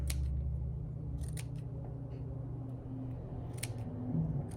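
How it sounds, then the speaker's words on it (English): Fabric scissors snip through the top layer of stacked fabric for a no-sew pillow, a few short crisp cutting bursts spaced apart over a low steady background hum, close and fairly quiet. "I'm just going to cut the top layer and then go back and cut the bottom layer"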